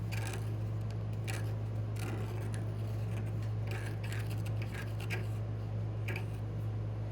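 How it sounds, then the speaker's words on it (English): Paper towel worked into a carburetor hole with a pick on an old Craftsman Tecumseh push mower makes soft, repeated scratching and rubbing scrapes in irregular bursts over a steady low hum, close and quiet. "I'm gonna take a paper towel and a pick and just work this paper towel in there"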